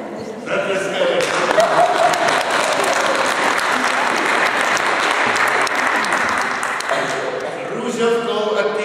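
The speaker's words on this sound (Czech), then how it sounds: "Zatleskali." An audience applauds with sustained, dense clapping that swells quickly and holds strong for several seconds, with voices in the crowd underneath.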